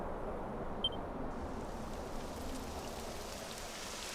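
Rain in the video game Dragon Quest XI, a soft, steady hiss of falling rain on surfaces, quiet and continuous with a tiny click early on.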